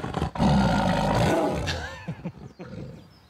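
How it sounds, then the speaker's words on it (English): An Amur tiger at a wildlife centre gives a loud, close roar that swells and then trails into growling rumbles, with no talk over it. "this magnificent Amur tiger"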